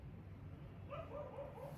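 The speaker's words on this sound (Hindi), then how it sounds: "गली में कुत्ते लग गए भोकन, कुत्ते बहुत भोके हैं ना" Dogs barking in a street, small and distant, a few faint yips and barks low under a steady background hum.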